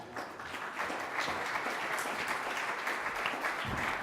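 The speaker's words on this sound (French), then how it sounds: "vous pouvez l'applaudir également" Audience at a business conference round table applauds as a guest is called up, producing a continuous, fairly soft wash of clapping from across the room.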